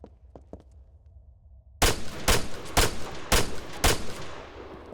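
Rapid rifle shots ring out in ArmA 3 as a soldier moves and fires on a range, with five loud, evenly spaced cracks after a quieter stretch of faint clicks and movement.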